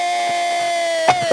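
A huge, dense crowd gathers around a Sasan cart at the Siddhanath Sasan yatra festival in Kharsundi, making a steady, loud wash of murmuring and noise with a sustained tone running through it and a couple of brief louder bursts near the end.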